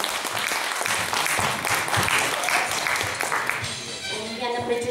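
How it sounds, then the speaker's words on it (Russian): An audience applauds at the awards ceremony of a children's mini-miss pageant, dense steady clapping filling most of the moment before it fades and a voice comes through at the end. "Аплодисменты."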